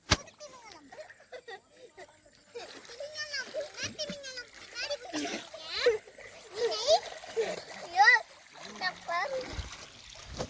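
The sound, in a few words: child splashing while swimming in water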